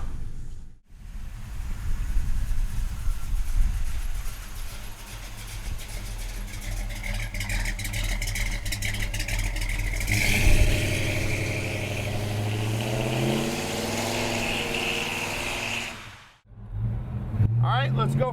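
A 1968 Chevrolet C10 pickup truck engine rumbles through its exhaust system, humming steadily at idle and then rising in a rev as the truck pulls away, loud and close throughout.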